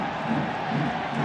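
A rugby crowd at the Toulouse v Bath match swells into a brief, dense roar of cheering voices, loud and unbroken for a second or so.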